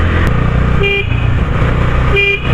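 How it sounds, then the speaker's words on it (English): Horn of a Bajaj Dominar 250 motorcycle, a 250cc power cruiser, sounding two short, loud honks about a second apart over a running engine on a city street. "The horn is also very nice, it is very much loud, and the sound is pretty unique."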